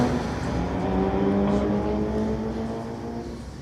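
Street-legal drag cars, a Mitsubishi and a Mercedes, accelerate hard down the strip with a loud, sustained engine roar and rising harmonic whine that fades slightly as they pull away.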